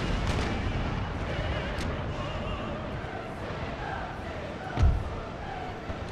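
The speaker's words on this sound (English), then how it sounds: "We got some mortar shells." Mortar shells firing and landing in the strategy game Empire: Total War, a dense continuous rumble of artillery and battle noise with one louder boom near the end.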